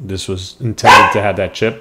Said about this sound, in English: Please excuse the dog that's barking.